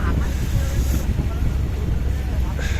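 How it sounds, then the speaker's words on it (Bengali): Cold wind sweeps over a boat travelling through the Sundarbans, a continuous low, buffeting rumble of gusts across the microphone with faint water and hull noise beneath. "ভীষণ ঠান্ডা বাতাস পুরো উত্তরে যাচ্ছি সোজা"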